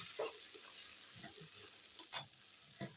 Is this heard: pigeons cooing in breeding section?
no